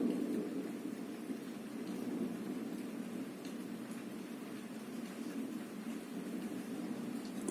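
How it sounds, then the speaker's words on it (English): A full-on lightning storm: steady heavy rain hissing throughout with deep rolling thunder underneath, a continuous loud wash of sound with no voices. "a full-on lightning storm."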